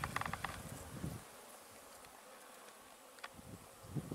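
Flying insects swarming in and out of a nest beside a hiking trail, a faint whining buzz that swells and fades as they pass close to the listener, with quiet stretches in between.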